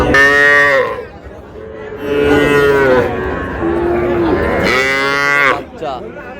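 Cattle low loudly at a calf and cow market, three long moos separated by short pauses, close by, with faint crowd chatter beneath.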